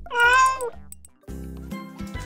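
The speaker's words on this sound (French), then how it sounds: "c'est un chat." A cat gives one loud, close meow, followed by lower, softer tonal sounds.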